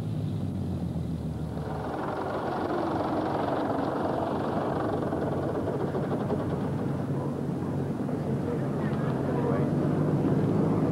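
A Supermarine Spitfire Mark 1 taxis in, its piston engine giving a steady low rumbling drone with a slightly rough, throbbing texture, heard at moderate distance throughout.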